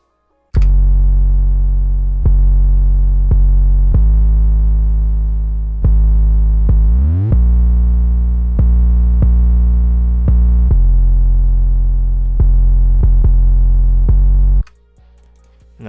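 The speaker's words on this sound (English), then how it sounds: "for our drums, here's the 808" Deep 808 bass drum pattern for an emoplugg beat, with sustained booming hits, occasional quick rolls, chopped stutters and a downward pitch slide midway, playing alone and loud before cutting off near the end.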